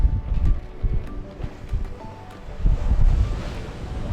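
Wind and water rushing past a sailboat under sail in light 12 to 14 knot winds off Nicaragua, a steady close whooshing wash with swelling surges, no voices.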